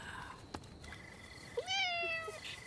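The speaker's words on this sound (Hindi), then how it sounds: "हाँ, दूसरी बिल्ली।" A cat meows once, a clear drawn-out cry close by, in a quiet indoor scene from a dubbed Indian film, with a few soft knocks and rustles around it.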